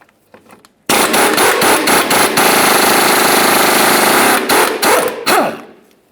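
An impact wrench zips off an 18mm nut on a rear sway bar bushing bracket of a 2002-2009 Chevrolet Trailblazer, a loud buzzing rattle lasting about four seconds with brief stutters, close up.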